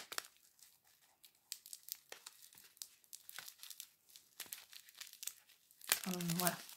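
A green fabric ribbon is pulled off by hand with a run of close, irregular crinkles, rustles and small tearing sounds, ending in a brief louder burst with a voice.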